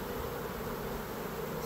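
A honey bee swarm buzzes steadily and densely, a continuous close hum of many wings with no voices over it.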